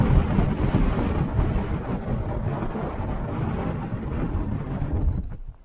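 Wind roars steadily and loudly around a small shelter on a hillside on the Pennine Way between Dufton and Alston, buffeting the microphone for several seconds before easing off sharply.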